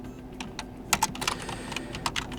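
Someone types on a computer keyboard while entering a test file name on Linux, with irregular close key clicks in short bursts over a faint steady hum.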